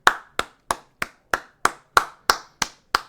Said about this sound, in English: I'm clapping him off, you know.